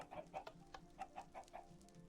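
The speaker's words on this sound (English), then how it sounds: "Oh, look, we already got a chicken." Several short chicken clucks from a Minecraft video game, close and fairly quiet, coming in a loose rhythm of about six or seven quick calls over a faint steady background.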